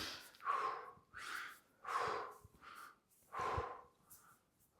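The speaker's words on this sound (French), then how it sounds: "Ça fait des respirations courtes." Short rhythmic breaths during a mobility stretching routine for cyclists, about five quick nasal inhale-exhale cycles, close and soft, evenly spaced with brief pauses between them.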